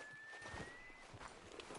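Horse hooves clop in a video game, a quick run of soft, close, irregular steps over a constant hissy background, with no talk.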